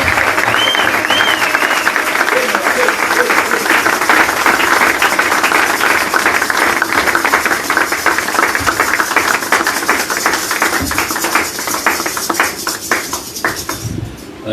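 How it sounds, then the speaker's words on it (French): A church congregation at a Sunday service applauds and cheers loudly and continuously, dense clapping filling the space with a rhythmic crowd roar that stays steady, then thins slightly near the end. "le révérend Cyril Naouège, nous acclamons très fort le Seigneur"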